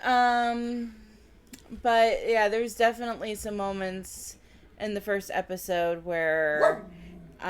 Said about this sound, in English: So, if you hear my dog barking